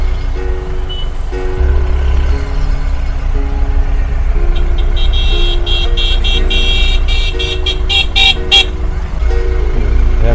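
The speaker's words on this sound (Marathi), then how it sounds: "एवढं जबरदस्त बेकार असं ट्रॅफिक" Heavy, congested road traffic during the Akkalkot palanquin procession at Guru Purnima: a loud engine rumble with repeated car horns honking, clustering into rapid toots near the end, and faint voices underneath.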